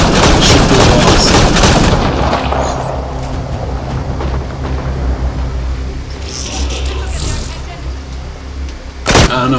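Gunfire and explosions in the video game Apex Legends: a loud burst of rapid shots and booms up front, then quieter scattered fire and rumble, with a sharp close shot near the end.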